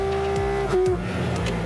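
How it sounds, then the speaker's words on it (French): A Porsche GT4 RS naturally aspirated flat-six revs sharply, its loud, clean howl rising and dropping through a quick gear change over under two seconds. "Voilà, ça c'est l'effet Flat 6 Atmo."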